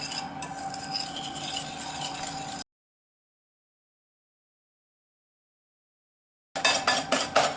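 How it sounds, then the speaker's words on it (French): Eggs and sugar whisked in a salad bowl for an apple cake batter: brisk, scraping whisk strokes against the bowl in a steady run, then a stretch of silence before a shorter, louder burst of whisking, with no talk. "on fouette pendant 1 minute ou 2"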